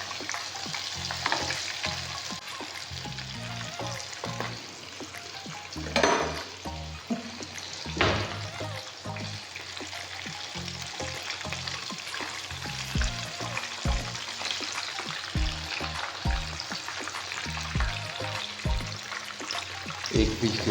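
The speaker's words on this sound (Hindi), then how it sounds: "और इसको 5 मिनट तक फ्राई होने देंगे।" Baby white pomfret fish frying in oil in a pan over a high flame, a continuous close sizzle and crackle with occasional scraping and clatter as pieces are moved, no talking.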